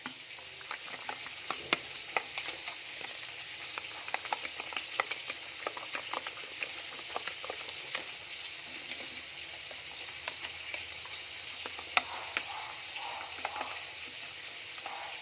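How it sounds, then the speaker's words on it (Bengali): Oil crackles and sizzles steadily as fish fries, with frequent sharp pops and spits over a constant bubbling hiss. "মাছ ভাজা রেডি আছে, আর 2 পিস এটা ভেজে নিই।"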